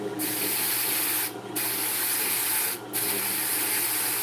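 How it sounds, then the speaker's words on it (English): Fiber on a Brother Supercard drum carder being burnished with a burnishing tool, giving a steady, close, airy rubbing hiss broken by two brief pauses between strokes. "I'm going to burnish the top with my burnishing tool."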